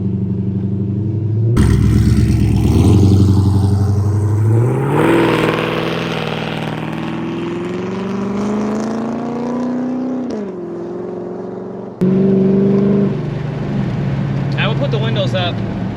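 A sixth-generation Dodge Charger SRT accelerates hard from inside the car, its engine note climbing steadily through the gears up to about 60 mph before easing off, loud and close, with a voice speaking briefly.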